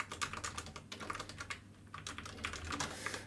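Close computer keyboard typing comes in quick irregular bursts of crisp key taps with short pauses, with no voices.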